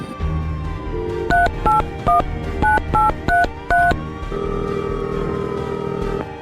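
Telephone number dialed to reach a village head, a string of about ten loud DTMF keypad beeps in quick even succession, followed by a steady ringing tone.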